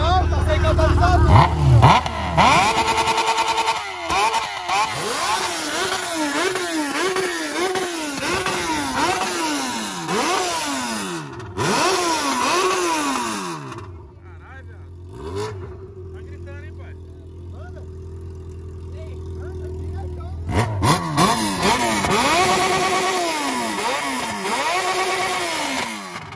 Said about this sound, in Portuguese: Os caras falaram que seu escapamento berra mais que o dele?